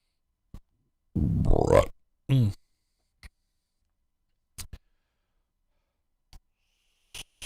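A man lets out a loud burp after drinking warm beer, followed by a second shorter one, then scattered faint clicks and quiet sounds in a still room.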